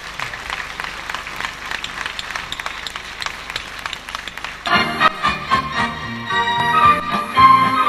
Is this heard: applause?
yes